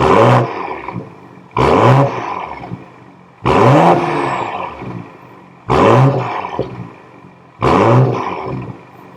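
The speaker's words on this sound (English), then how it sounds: "let's do some revs with the M Performance exhaust" Five loud revs from a warm 2025 BMW M440i xDrive Coupe with M Performance exhaust, each a sharp rising roar with a raspy exhaust note, separated by brief drops back toward idle.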